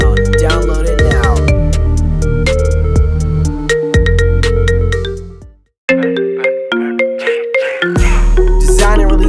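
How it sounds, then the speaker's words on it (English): A phone ringtone plays as a loud, punchy electronic melody of repeated plucked notes and beats, stopping briefly partway through before starting again. "Check out this awesome ringtone."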